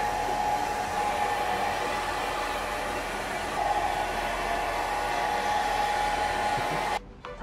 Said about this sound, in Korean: 드라이기를 사용해가지고 말려주셔도 돼요.